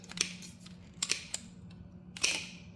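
Sharp snips of hand shears cutting thin copper sheet while shaping a homemade electrical lug, three or four distinct crisp cuts spaced irregularly over a low steady background hum, close and fairly quiet.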